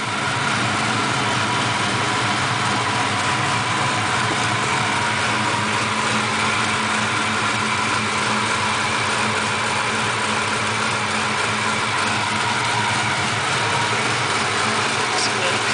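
Car engine idling a little high just after a cold start, steady close hum that stays even throughout, with faint background noise.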